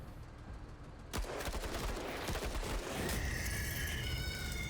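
Video game gunfire from Menace sounds as a sharp burst with a crackling, rapid rattle afterwards, fairly faint and noisy, with no talk over it.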